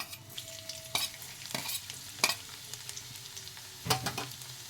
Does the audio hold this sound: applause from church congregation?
no